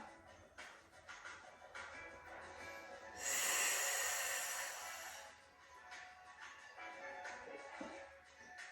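A person breathes steadily through a Pilates exercise, a close, soft breathy rush. One long, louder exhale swells and then fades, with light rustling of movement around it and no talking.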